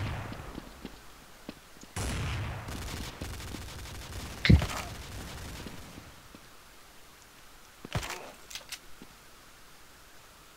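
Gunfire in Counter-Strike: a few sharp bursts of shots around the start, middle and near the end of the clip, with a noisy background between them.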